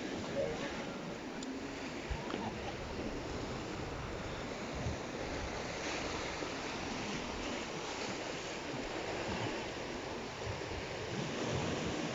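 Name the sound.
rough sea waves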